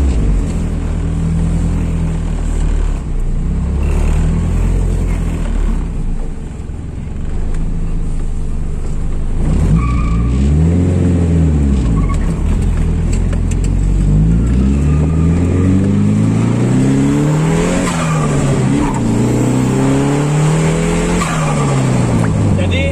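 A BMW E30 fitted with a Japanese turbo engine accelerates hard, loud engine note climbing, dropping at the shift into second gear, then rising again with sweeping revs; a voice is faintly present.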